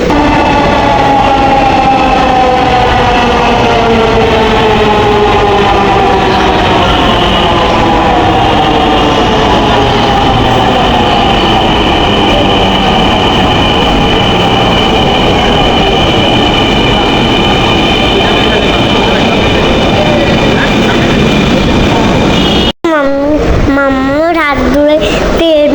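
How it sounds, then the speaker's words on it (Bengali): A train pulls into a station, its loud rumbling roar and screeching wheel and brake tones sliding downward in pitch for over twenty seconds, before a brief cut to rising and falling tones near the end. "আমাদের বলতে বলতে আমাদের ট্রেনটা চলে আসছে"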